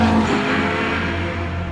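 A McLaren 720S GT3 race car engine produces a loud, steady mechanical roar with a continuous buzzing drone and no voices.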